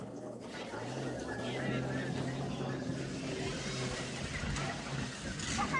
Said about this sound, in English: It sounds like it might be a petrol engine.